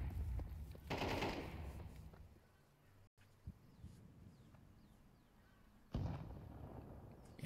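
Grenades going off during a professional Counter-Strike match, with a couple of loud bursts near the start and near the end, scattered gunfire and game noise filling the space between them.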